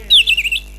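A short burst of bird chirping plays as an effect within a religious story narration, a quick series of high warbling tweets standing alone over a steady low hum.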